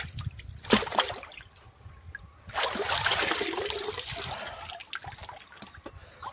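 Water trickles and splashes close by as someone bathes in clear water outdoors, with a sharp splash early and a longer rushing pour in the middle, then quieter dribbles.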